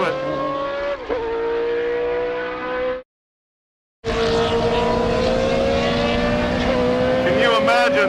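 A Formula 1 race car drives on track, engine screaming loud and close with steady high-pitched harmonics and gear shifts, cutting out for about a second before roaring back even harder.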